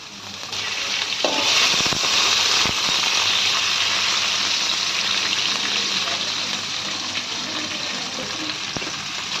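Onions frying in hot oil until reddish, a steady close sizzle holding loud for the whole stretch with a few stirring clicks, no talking over it.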